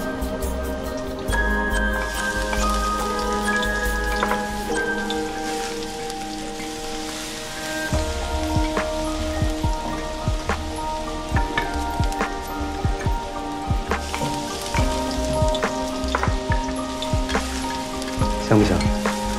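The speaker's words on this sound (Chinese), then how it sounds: "用下锅底的油，现在开始炒姜蒜" Ginger and garlic stir-frying in a little oil at the bottom of a pan, a continuous close crackling sizzle with scattered spatula clinks, set beneath background music.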